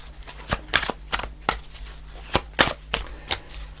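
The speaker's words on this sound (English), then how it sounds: "fast forward if you don't want to see the shuffle" Tarot cards are shuffled by hand during a reading, giving a quick run of crisp riffling snaps and soft slaps in irregular bursts, close and fairly clear with no talking over them.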